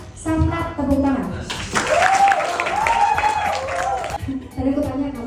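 An audience at a public speaking session breaks into applause for a brief stretch, with a burst of clapping and crowd noise rising between stretches of someone talking.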